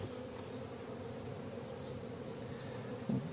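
Honey bees crowd a hive in early April, filling the middle of the brood area, and their faint, steady, close buzz hums without a break, with a small bump of noise near the end.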